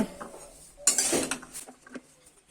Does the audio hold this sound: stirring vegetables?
yes